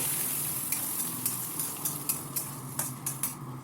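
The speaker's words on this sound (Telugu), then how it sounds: "2 గుడ్లు పోసిన తర్వాత ఒక 10-15 సెకండ్లు ఆగి కలుపుకోవాలండి." Eggs for egg bhurji sizzle steadily in a hot pan while a spatula scrapes and stirs in regular strokes, close and moderately loud, with no talking.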